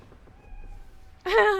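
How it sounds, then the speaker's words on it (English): A house cat lets out a single loud, close meow that rises and falls, following a stretch of near-quiet room noise. "I heard a meow."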